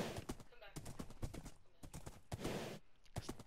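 Minecraft horse hooves galloping, a quick, even run of close clopping beats playing steadily while people talk over them.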